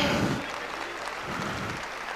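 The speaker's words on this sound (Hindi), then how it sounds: "जोरदार तालियां" Event audience applauding in welcome of the chief guest, the Chief Minister, as she is called to the stage: steady, dense clapping from a crowd throughout.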